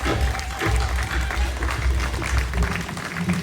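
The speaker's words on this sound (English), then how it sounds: "Give him a nice round of applause." Applause from a crowd of mourners at a funeral ceremony honoring Determine, steady broadband clapping sustained throughout with a faint murmur of voices beneath.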